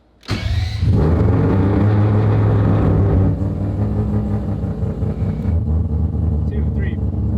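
A car with a rotary turbo engine revs up sharply and then drones loudly and steadily as it drives on the street, with a strong low rumble up close and a voice talking over it.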